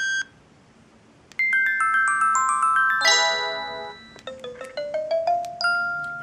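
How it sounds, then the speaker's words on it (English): Polyphonic melodic ringtone from an old Samsung SGH-X200 mobile phone, bright chiming tones playing a short tune, then a second ascending repeated-note melody, loud and alone. "So that was all about the ringtones."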